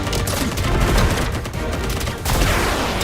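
Rapid, dense gunfire and explosive bursts in the Contra Operation Galuga video game, loud and continuous for a few seconds with no talk.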